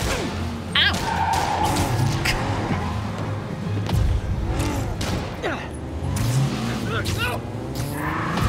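Car in the Spider-Man Remastered game: a roaring engine with revving, screeching and crashing impacts, loud and busy, with a person talking throughout.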